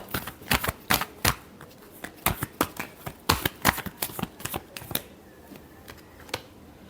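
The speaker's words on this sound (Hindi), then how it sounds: "Last shuffle." Tarot cards being shuffled by hand, a quick series of sharp riffling snaps and flicks, close and fairly quiet, coming in irregular bursts.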